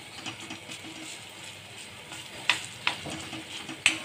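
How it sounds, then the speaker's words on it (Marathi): A spoon pressing and mashing softened tomato in a pan with sautéed chilies gives a faint sizzle under scraping and stirring, with a few sharp metallic clicks of spoon against pan toward the end. "टोमॅटोला आपण चमच्याच्या साह्याने असं क्रश करून घेऊया"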